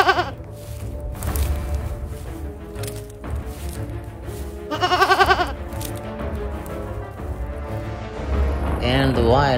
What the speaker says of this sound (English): The bighorn goat walks elegantly and ambles along the rocky ledge.